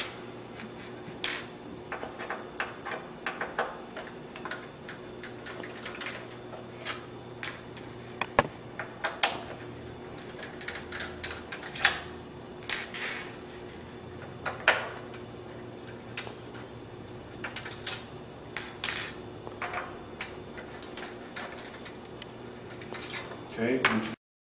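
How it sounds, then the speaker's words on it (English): Long screws being removed from an Xbox 360 top case: scattered small metallic clicks and taps of a screwdriver and loose screws, close by, over a low steady hum and some quiet speech. "You want to go ahead and remove those screws."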